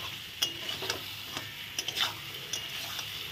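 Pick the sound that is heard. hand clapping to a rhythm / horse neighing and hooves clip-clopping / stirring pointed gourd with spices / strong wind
stirring pointed gourd with spices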